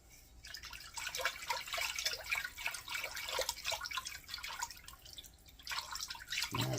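Regular milk pours into a cooking pot of chicken and dumplings, a continuous close trickling splash that starts after a brief quiet moment and carries on for several seconds.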